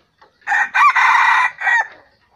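A young rooster, a bait cock, crows close to the recorder in one loud, clear call of several drawn-out segments, standing alone with no talk.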